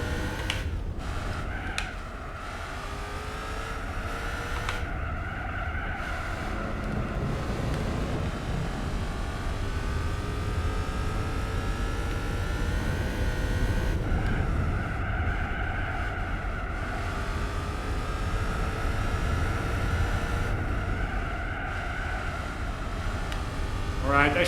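Audi race car engine in Gran Turismo 4, a steady droning roar with rising and falling pitch as it accelerates and shifts through a track section, continuous throughout with someone talking over it.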